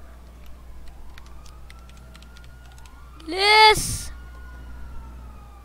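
A police siren in GTA 5 wails briefly and loudly, sweeping past over steady game engine hum, with a player shouting over it.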